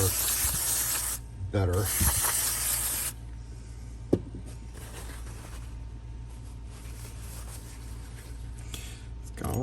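Short bursts of aerosol lubricant spray onto an Ideal Security auto-latching Jimmyproof rim lock clogged with hardened grease, two close hissing blasts followed by quieter handling and a brief tap, with a voice speaking softly near the end.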